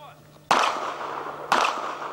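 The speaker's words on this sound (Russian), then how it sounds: "Стрельба по мишени с близкого расстояния, практически лицом к лицу с условным противником." Two loud sniper rifle shots fired at a target during winter training, sharp cracks one second apart, each trailing into a long rolling echo.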